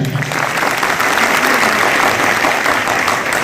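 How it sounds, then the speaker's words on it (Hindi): Dense, sustained audience applause at a business-plan seminar on a hospital campus in Bhagalpur, loud and steady throughout with a close crowd of many hands clapping together. "इसके लिए एक बार जोरदार ताली।"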